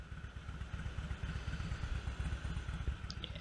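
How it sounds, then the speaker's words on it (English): Motorcycle engine idling at a traffic light on a ride toward Exeter, a steady low throbbing rumble with even pulsing beats, heard from close by alongside a bicycle with faint road noise above. "A nice bike to my right. Let's hear that purr for a minute."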